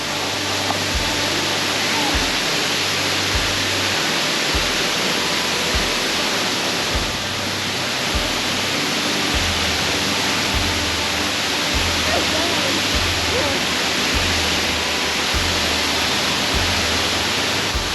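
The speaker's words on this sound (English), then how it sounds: "Look at that waterfall." A waterfall on a hidden hiking trail in Kentucky, a loud, steady broadband rush of falling water filling the whole stretch, with faint low thumps from wind buffeting.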